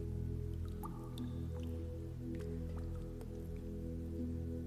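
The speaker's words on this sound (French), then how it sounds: "l'écho lointain de quelques gouttes qui tombent lentement des parois rocheuses" Slow water drops fall from rocky walls inside a cave, sparse distant drips over a steady low droning background.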